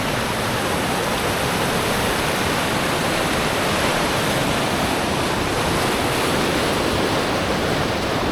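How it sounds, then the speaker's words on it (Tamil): A swollen river in flood rushes past in the Kyrgyzstan mountains below a small waterfall, making a loud, unbroken roar of churning water heard close by. "பெருக்கெடுத்து ஓடுது ஆறு."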